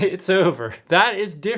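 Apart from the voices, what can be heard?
No everyday noise stands out behind the speech.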